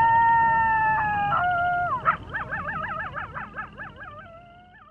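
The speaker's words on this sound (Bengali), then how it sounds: "মাঝে মাঝে দুই একটা কুকুরের আর্তনাদ শোনা যাচ্ছে" Dogs howling in a long, wavering, drawn-out cry that rises and bends, loud and close, then fades out with a few yelping inflections.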